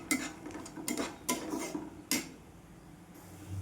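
Peanuts being stirred while they roast in a pan, heard as a few distinct scraping and rattling strokes with short pauses between them, close and fairly quiet.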